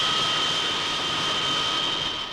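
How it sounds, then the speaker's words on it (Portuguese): Archive film sound of a fixed-wing airplane flying, a steady, loud engine roar with a sustained high whine, continuous throughout with no talking. "Graças a Santos Dumont, o avião conduz mais alto a bandeira do Brasil."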